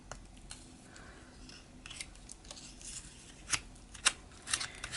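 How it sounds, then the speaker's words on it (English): Sandpaper rubbing over chipboard pieces, soft close scratchy strokes in irregular bursts with a few louder rasps near the end, quiet and without talk. "just take my sandpaper and kind of, see, it just slowly starts ripping that"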